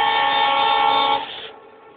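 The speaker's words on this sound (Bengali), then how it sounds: "বাম বাম দিক দিয়ে ট্রেনটা যাচ্ছে, দেখা যাক কি ট্রেন।" A train passing with a loud sustained horn-like tone that sounds for over a second, then cuts off, leaving a fading rumble, close by and with no talk.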